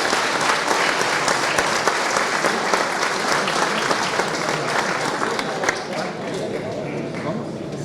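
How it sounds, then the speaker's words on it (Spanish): Sustained applause from a large seminar audience, steady dense clapping that fades slightly toward the end. "Recibámoslo con un aplauso"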